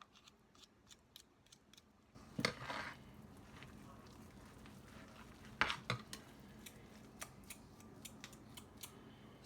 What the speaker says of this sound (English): I'm going to mix that in to the batter